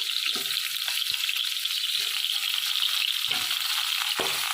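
Pointed gourds (potol), halved lengthwise, frying in a pan for a vegetarian mung dal dish: a steady, close, even sizzle of oil throughout, with a few soft clinks and stirring knocks scattered on top.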